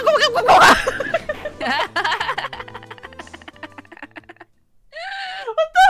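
A voice imitates a weird Donald Duck noise, a squawky quacking burst followed by chuckling sounds, a short gap, then another high nasal quack, loud and close over background game music.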